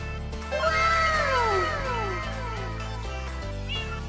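A cat meows several times in a row, the calls loud and close, with rising and falling drawn-out tones, then a softer final mew; no one speaks over it.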